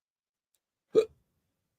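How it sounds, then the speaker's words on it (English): A single short hiccup, abrupt and close, standing alone in near silence. "I have the hiccups."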